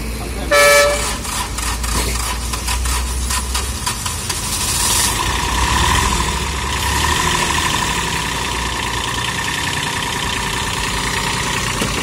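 A Kubota tractor engine runs with a steady mid-pitched idle and rises into a brief rev, after a short loud horn-like toot at the start.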